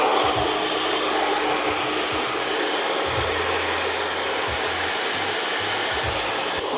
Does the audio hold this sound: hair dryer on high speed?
yes